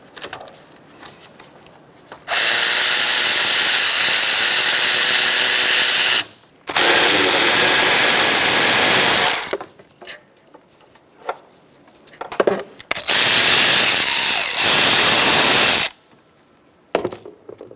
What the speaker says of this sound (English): Using a 12mm socket, we're going to remove the 3 bolts for the tensioner pulley.